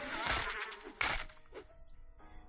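Buzzing insects, bees in the 7 Days To Die survival game, hum in a steady drone with a couple of louder swells near the start before tailing off into fainter buzzing.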